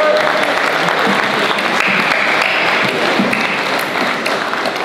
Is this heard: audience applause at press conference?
yes